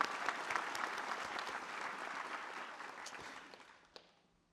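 At a fire rescue academy graduation ceremony, an audience claps in a steady, dense patter that fades gradually over about four seconds, heard from a distance and fairly faint, with one louder clap near the end.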